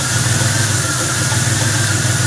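A car engine idles roughly and loudly up close, its low steady rumble carrying a faint uneven stumble, with no talk over it.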